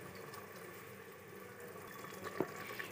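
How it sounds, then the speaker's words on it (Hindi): Water is poured into a pot of soaked rice, making a soft, steady splashing and trickling with a small splash near the end, faint and close in a quiet kitchen. "तो मैं इसमें जो है 3 कटोरी पानी ऐड करूँगी।"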